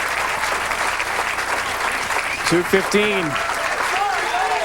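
A big crowd applauds and cheers steadily at a professional bowling tournament in Uncasville, Connecticut, the noise continuous and fairly loud while a commentator talks over it and whoops rise near the middle.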